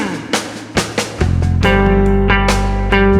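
A smooth jazz electric guitar plays a rhythm figure with connected, sustained chords instead of muted dead notes. A few sparse plucked attacks come first, then ringing held chords take over, loud and close.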